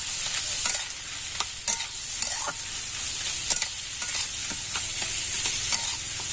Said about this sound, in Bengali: এবার সমস্তটা খুব ভালো করে মিশিয়ে নেব